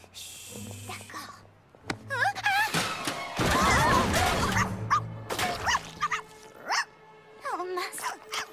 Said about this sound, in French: Désolée pour tout ce vacarme. Le bébé chien a renversé la peinture.